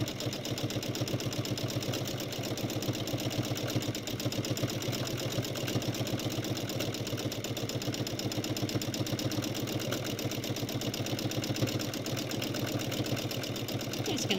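A sewing machine runs at a steady, even pace through free-motion stitching of sketchy applique circles for pinwheel flowers. The rapid, continuous mechanical hum carries on close and unbroken, with no talk over it.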